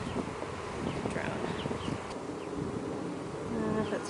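Honeybees swarm around open hive frames during an inspection, a steady close insect buzz throughout with individual bees droning past the microphone, faint handling noises beneath.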